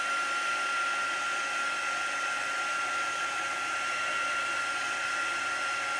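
A heat tool blows a steady, loud, unbroken whoosh over Brushos crystal colour powder painting, drying the wet pigment on paper with no pauses or voices.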